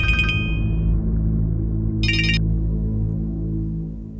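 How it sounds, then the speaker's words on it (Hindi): A telephone rings in two short bursts, about two seconds apart, loud and close over a steady low hum in a dramatized crime scene. "नीलम ने भारती के पिता धर्मपाल को भी फोन किया।"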